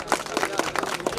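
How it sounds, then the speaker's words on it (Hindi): Audience applause for a top-scoring student at a school ceremony, a short burst of brisk rhythmic clapping from a gathered crowd, close and steady. "भाई इनके लिए जोरदार तालियां।"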